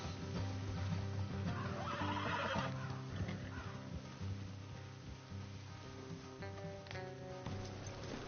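Horses whinny and neigh in the video game Red Dead Redemption 2, over a steady layer of background music, with a few hoof clip-clops mixed in.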